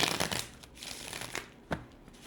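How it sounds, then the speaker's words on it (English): A deck of tarot cards is shuffled by hand in a few quick, soft riffling bursts, quiet and close, with no talking. "Let me shuffle."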